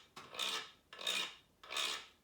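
A wooden stick scraped over the slits of a frog-style frequency stick with moderately spaced grooves, giving three rough rasping strokes in a steady back-and-forth rhythm, close and fairly loud with no talking.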